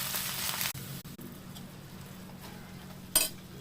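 Cabbage and chana dal with a little turmeric and salt being sautéed in a pan for a Malvani-style dish: a steady close sizzling hiss that thins out, broken by a few stirring scrapes and a sharp clink near the end, with no talk.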